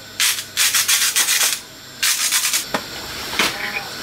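Mince and gravy stirred in a pan with a spoon, a series of short scraping, rubbing strokes in bursts with brief pauses, close and moderately loud over a faint sizzle.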